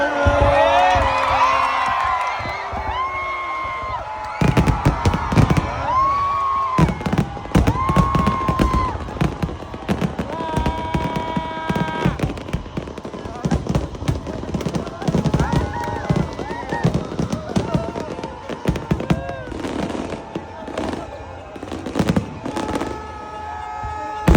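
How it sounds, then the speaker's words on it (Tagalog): New Year fireworks burst repeatedly over the Mall of Asia with sharp cracks and booms, loud and close, while a crowd cheers and chatters underneath. "Let's go, manood na tayo ng fireworks!"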